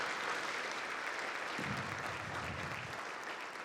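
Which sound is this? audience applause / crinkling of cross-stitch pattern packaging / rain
audience applause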